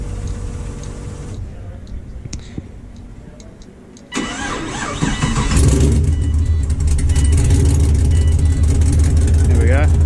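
A Holden Commodore cranks with a brief whirring starter, catches and settles into a loud, close, steady idle with some rough, uneven firing.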